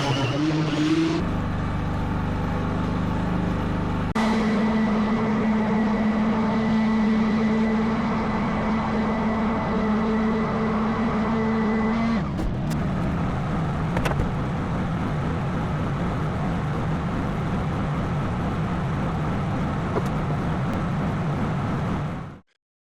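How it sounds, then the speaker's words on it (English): A grinder fitted with a wood bit, then a sander, works the edges of a cottonwood dining table in an off-grid workshop: a loud, steady motor whine that shifts pitch partway, then turns into rougher, noisier grinding before cutting off. "I grabbed one of my grinders with a wood bit on it and the sander and decided to give it a rough round over"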